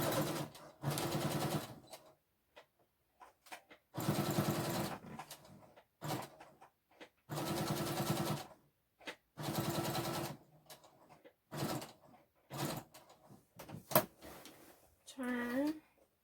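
A sewing machine stitches along the bottom hem of a vintage-style fabric apron in several steady, whirring runs of a second or two each, separated by short pauses and small clicks of handling the cloth.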